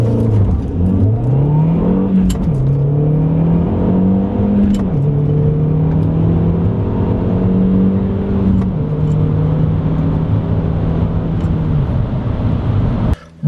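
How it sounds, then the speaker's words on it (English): A car approaches and passes close by on a road, its engine note rising and falling with steady tonal whine, loud and near, with no talking over it. "car coming"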